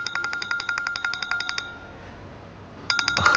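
A telephone rings in rapid repeated electronic trills, a burst of pulses, then a pause of about a second before the ringing resumes, loud and close in a quiet room.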